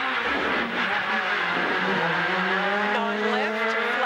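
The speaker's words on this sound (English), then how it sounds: "they just grab the handbrake and lock the back wheels up to get the back end to swing around" A front-wheel-drive rally car in a forest rally revs hard through a handbrake turn with the back wheels locked, the engine note climbing and falling under speech inside the car.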